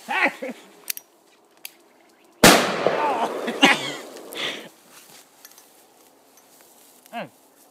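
A small FP3 firecracker (JC05) bursts outdoors with one sharp, loud bang that trails off into a noisy decay, with a few faint clicks beforehand and a short voice near the end.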